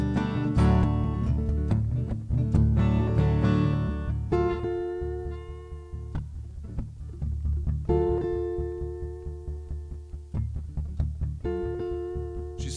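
A wailing, whistle-like instrumental imitation of a train, starting with rhythmic chugging bursts and moving into long, drawn-out held notes.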